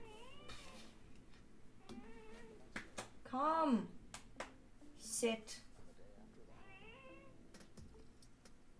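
A cat meows several times, with drawn-out rising and falling cries and one sharp, louder yowl. A person speaks briefly between the calls in an indoor room.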